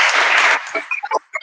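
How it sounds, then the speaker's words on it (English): Audience applause at a formal panel event, a dense burst of clapping for about half a second that quickly thins into a few scattered claps and fades. "A round of applause, please."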